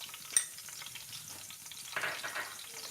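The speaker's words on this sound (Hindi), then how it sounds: "ये तेल गरम हो गया, इसमें मैंने जीरा और जो लौंग था वो डाल दिया।" Cumin seeds and cloves crackle softly in hot oil in a pan, a faint, even sizzle with one brief sharp tick early on and a slightly louder hissing swell near the end.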